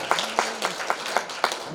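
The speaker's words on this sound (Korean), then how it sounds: "구원해 주신 하나님께 영광의 박수를 한번 주십시오" A handful of sharp, separate claps land at a slow, uneven rhythm in a church Christmas worship service, fairly close and sparse rather than a full ovation.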